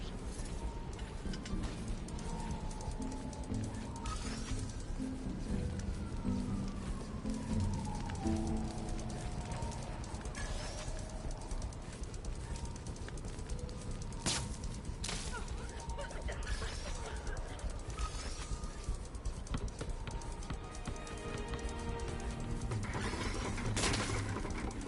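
Pigeons cooing in a city street scene of the Spider-Man PS4 video game on a PS4 Pro, heard under steady game ambience, music and occasional mechanical clanks and impacts.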